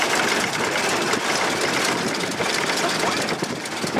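A 1914 Ford Model T engine running just above idle in high gear, giving a steady, fairly quiet low rumble with even mechanical clatter throughout, with no talk over it.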